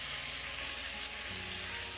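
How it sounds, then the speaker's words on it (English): Jerk shrimp sizzling steadily in a hot pan right after being flipped, a constant close crackling fry with no voices. "After 2 minutes, you want to flip over the shrimp."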